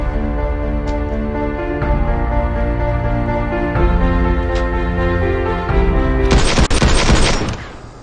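A 3D-printed Fortnite toy gun fires a loud, sustained burst of rapid shots over a steady musical bed, with a harsher, noisier flurry near the end before fading.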